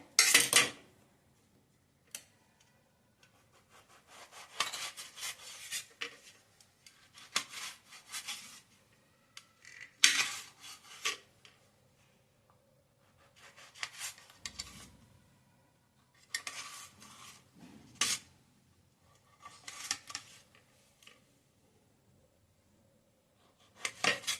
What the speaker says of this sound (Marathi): हे मी दोन मोठे टोमॅटो घेतलेत त्याचे तुकडे करून मी घेणार आहे